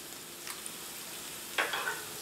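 Boiled potatoes with bacon and onions frying in a pan, quiet and low with a faint background sizzle, broken by a couple of brief scraping stirs as the potatoes are tossed and spread out.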